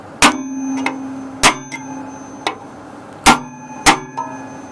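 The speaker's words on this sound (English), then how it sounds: "punch out these 2 top holes, which I'm going to do right now. With just a regular screwdriver" A regular screwdriver hammered against the metal knockouts of a junction box on a blower, giving sharp ringing clangs in irregular pairs, close and loud, each leaving a brief metallic ring.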